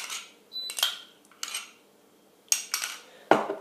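Crème fraîche being beaten in a bowl with a utensil for an onion tart, a few short scraping clinks against the bowl in separate bursts, close and fairly quiet.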